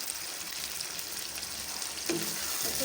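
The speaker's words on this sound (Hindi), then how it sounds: "दो से 3 मिनट हम इसको अच्छी तरह फ्राई कर लेंगे" Chicken pieces for a korma fry steadily in a pan with a continuous close sizzle, a slight stir or shift in the oil adding a brief louder crackle near the end.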